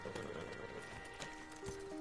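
Horses' hooves clip-clop in Red Dead Redemption 2, a faint run of light, uneven knocks at walking pace over a soft ambient hum, with a steady tone entering near the end.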